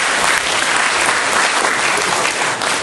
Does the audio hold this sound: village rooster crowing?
no